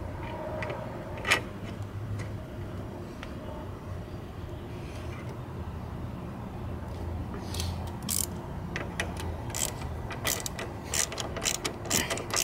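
A ratchet tightens the shock bolt on a scooter with steady bursts of close pawl clicks over low background hum, the strokes growing quicker and sharper near the end.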